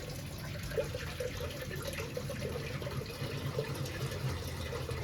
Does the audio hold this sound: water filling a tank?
yes